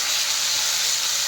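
Fish fries in a pan of hot oil, a dense, even hiss of sizzling that holds steady and close without pause or voices.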